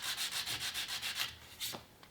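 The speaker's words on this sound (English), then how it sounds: "we're sanding down through the finish, and we're not sanding down into the wood" Hand sanding a wood finish with 100-grit sandpaper: steady rhythmic back-and-forth scratchy strokes, about two per half second, close up, slowing to a few final rubs.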